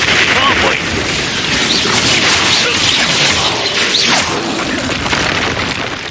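Loud spell blasts in Hogwarts Legacy, with repeated booming bursts and whooshing sweeps in a dense, chaotic stream and no quiet gaps between them.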